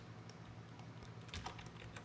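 Quiet computer keyboard typing, a few light key taps and a return press while renaming a layer in editing software, heard alone with a soft background hum.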